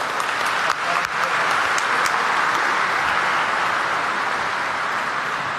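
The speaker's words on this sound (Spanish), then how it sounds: "Un aplauso para todas las mujeres" A church congregation at a eucarística celebration applauds the women present, a sustained wash of clapping from a large room, moderately loud and even.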